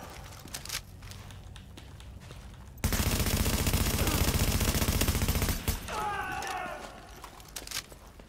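Rapid sustained automatic gunfire in The Division, a dense loud burst lasting a few seconds between quieter stretches of scattered shots and movement, with brief spoken voices around it.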